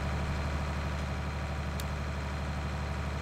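A Keenan diet feeder in the video game Farming Simulator 19 drones steadily as its chain drives the auger, with a low engine-like hum running constant and unbroken and a faint brief tick partway through.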